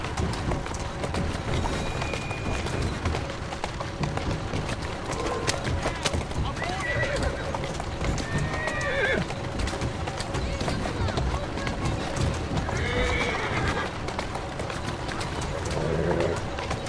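A horse in the video game Assassin's Creed Syndicate whinnies a few times over steady clopping hooves and outdoor ambience, with birds cooing faintly in the background.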